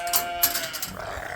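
Sheep bleating outdoors on a farm at night, a few overlapping calls close by over a short stretch with no talk.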